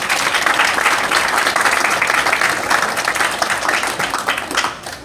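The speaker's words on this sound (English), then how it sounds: "give yourselves a round of applause" A packed anime convention crowd at an opening ceremony claps hard in a thick, continuous burst of applause that tapers off near the end.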